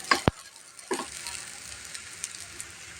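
Ghee goes into a pot of beef biryani, giving a soft, steady sizzle with a couple of sharp clinks from a spoon or pot edge near the start, then a quieter crackle that continues on its own.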